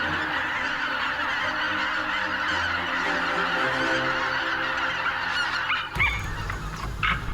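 A huge flock of geese honks continuously in the Biebrza wetlands of Poland, a dense, loud chorus of overlapping calls that never lets up, with a few closer, sharper honks standing out near the end.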